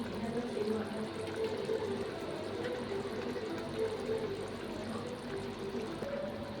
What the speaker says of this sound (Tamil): இந்த டைமில் நான் எக்கு ஆட் பண்ணிக்கிறேன்